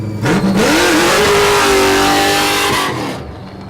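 A Formula Drift Nissan 350Z with an LS3 V8 revs hard and loud up close, the pitch climbing, wavering and sustaining before the throttle drops off and the sound cuts away.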